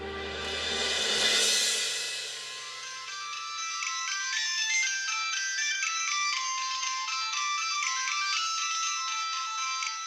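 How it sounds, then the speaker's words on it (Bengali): A phone rings with a repeating electronic melody, loud and continuous for several seconds, with no voices. "ফোনটা বাজছে, ধর না"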